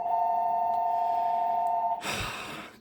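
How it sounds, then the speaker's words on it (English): A phone rings loudly during a physics lesson: a steady electronic ringtone holds for about two seconds, then cuts to a short burst of noisy rustling. "Excuse the phone."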